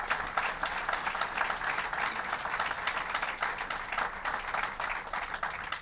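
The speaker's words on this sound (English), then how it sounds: "let's give them a round of applause for what they did." Audience applause at a governor's announcement event on Long Island, a steady, fairly soft wash of many hands clapping, continuous for about six seconds with no break.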